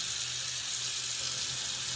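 Tap water gushing steadily into a sink while dyed embroidery fabric is rinsed, a close, continuous hissing splash with no talking.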